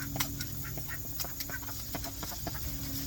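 Pet ducks make soft, scattered quacks and short calls close by beside an herb garden of oregano and sage, spread unevenly across a few seconds over a low steady background hum.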